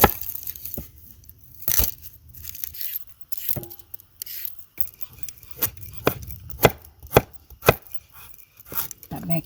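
Knife chopping small peeled pearl onions on a cutting board for beef stew, with irregular sharp close chops, sparse at first and then quicker clusters of crisp cuts.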